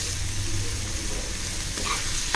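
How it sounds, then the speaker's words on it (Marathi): Chopped coriander fries in hot tempering oil for kaleji masala with a dense, even sizzle and crackle, close and constant, with a faint scrape of stirring near the end. "कोथिंबीर फोडणीमध्ये जरा लालसर होईपर्यंत आपल्याला फ्राय करून घ्यायचं आहे"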